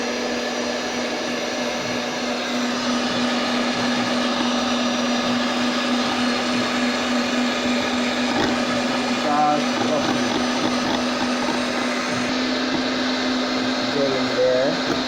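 An electric mixer whips egg whites until fluffy for homemade pancakes, a loud continuous whirring motor drone holding steady throughout, with faint bits of talk underneath.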